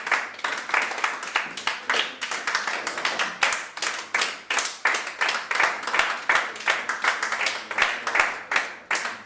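Audience clapping for Dr. Afrika at a talk on melanin, a steady patter of many hands at moderate distance lasting several seconds, with no voices over it.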